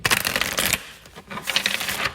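Tarot cards shuffled by hand in a few quick bursts, a crisp riffling rustle that pauses briefly in the middle and then resumes, close and moderately loud with no voice.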